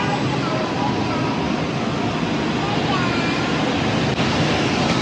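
Heavy rain pouring outdoors in Multan, a dense, steady broadband roar with no pauses, with a voice speaking underneath.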